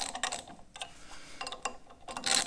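A ratchet turns engine bolts down against a pressure plate while a dune buggy engine is installed, making quick, uneven bursts of clicking and metallic clatter close by, with no talking.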